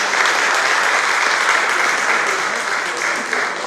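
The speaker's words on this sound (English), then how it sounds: "so a big round of applause." Crowd at a Yoruba Day 2018 community event bursts into dense, loud applause for the event committee, an even wash of many hands clapping steadily without pause.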